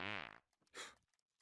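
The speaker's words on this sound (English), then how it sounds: "I want my farts to hurt." A single cartoon fart rips out loud and close, a rough buzzing blast followed by a short sputtering tail.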